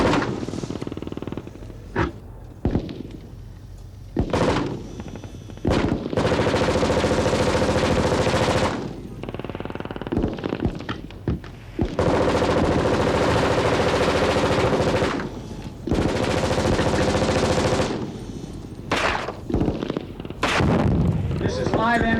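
Live ammunition fired at close range in long, loud bursts of rapid automatic gunfire, broken by short pauses and a few single shots, with some speech in between.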